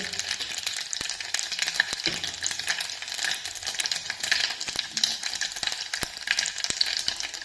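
Cumin, turmeric, asafoetida, mustard seeds and curry leaves frying in hot oil, a steady bright sizzle with crackling pops and scattered spoon taps against the pan, close and continuous.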